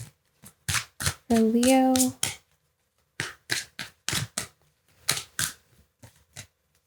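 Tarot cards are shuffled in quick bursts of crisp, papery riffles and taps that start and stop, briefly interrupted by a short spoken phrase.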